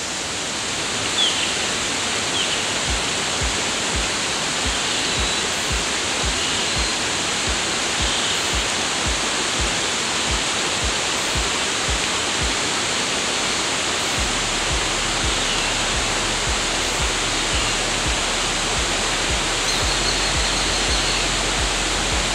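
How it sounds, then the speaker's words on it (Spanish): Waterfall on the Zacate river at a ranch in La Merced del Potrero, Oaxaca, a loud, constant roar of falling water heard up close, continuous and unbroken, with no voices. "Aquí hemos llegado ya a la cascada del río Zacate."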